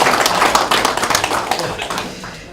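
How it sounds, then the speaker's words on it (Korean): Audience applause breaks out at a regional political party leadership meeting in Jeonbuk, a dense wash of many hands clapping steadily throughout and then thinning slightly toward the end. "다 함께 한번 박수로 다시 한번 축하를 드렸으면 좋겠습니다"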